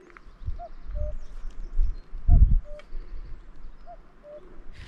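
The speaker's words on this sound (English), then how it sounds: "Can you hear the cuckoo?" A cuckoo calls its two-note song three times on a spring walk near Loch Venachar in Scotland, distant but clear, while soft footsteps thud nearby.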